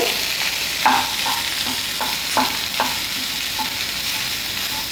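Four sliced onions with salt sauté over high flame in a pan for Open House chilli chicken, a steady sizzle broken by several sharp spatula scrapes and stirring clinks close up, with no talking.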